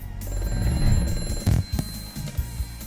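A telephone rings on a live call-in show, a steady ringing tone over a busy background of music and low rumble.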